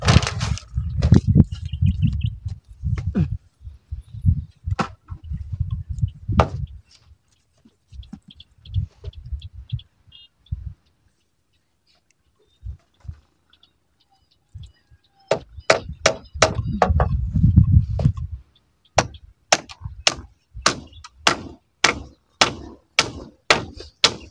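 Sharp hammer strikes ring out in bursts, first mixed with knocks and thuds, then a steady run of evenly spaced blows toward the end.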